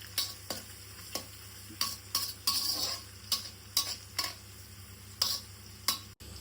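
Carrots and beans stir-fried with green chillies in a pan for street-style egg fried rice: a soft steady sizzle broken by a series of sharp scraping stirs of a utensil against the pan, close and fairly quiet, no voices.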